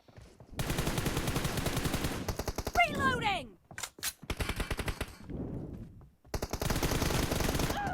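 Gunfire in the mobile game PUBG Mobile: rapid automatic bursts cut in and out, with brief pauses, a whooshing effect and a sharp short shot in the middle before heavy firing resumes.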